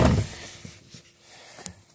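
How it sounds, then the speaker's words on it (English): A pickup truck door shuts with a solid thunk at the start, followed by a few faint clicks and a quiet, low hum inside the cab. "Shut my door."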